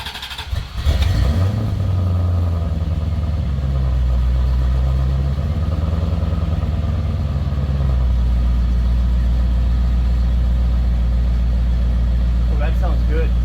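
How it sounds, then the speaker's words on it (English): A C4 Corvette engine with a Flowmaster 40 Series exhaust fires up close by and settles into a deep, throaty, rumbling idle that holds steady. "Next thing to do is to start it up and see what it sounds like."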